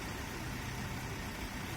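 A silver metallic car's engine idles with a low, steady rumble and hum, close and continuous, with no voices.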